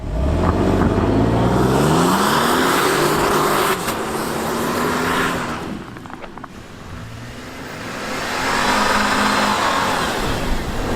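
A pickup truck revs hard and accelerates through deep snow with its traction control relaxed, the engine pitch rising and falling as the wheels spin, loud and close, then easing before surging again.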